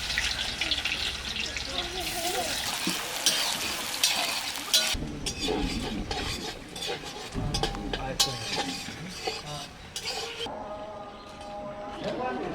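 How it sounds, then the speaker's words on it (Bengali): Onions fry in a hot wok at an outdoor cooking gathering, with an uneven, close sizzling and stirring clatter while people talk throughout. "পেঁয়াজটা একটু লাল লাল করে ভেজে নেবো।"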